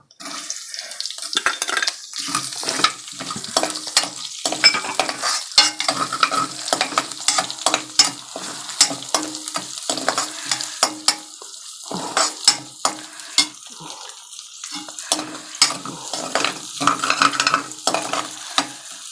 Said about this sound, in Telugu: ఇదిగోండి ఇలా ఏగుతుంది కదా